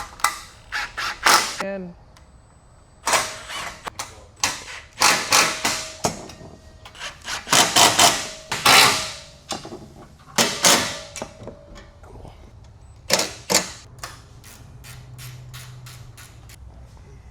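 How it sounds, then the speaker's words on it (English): Bolts and mounts on a 40-pound aluminum roof rack fitted to a Can-Am Defender being tightened: irregular close clanks, knocks and ratcheting tool bursts in clustered flurries, with a brief spoken word at the start. "now we're gonna go and tighten everything down on the exterior and interior"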